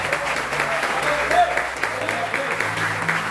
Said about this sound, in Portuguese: Aplauda o Senhor da glória